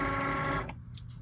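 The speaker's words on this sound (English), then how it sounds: "I'm going to load this into my Cricut." Cricut cutting machine pulling in a sheet for a print-then-cut job, a short motorized whir of about half a second that stops abruptly, leaving a few faint clicks.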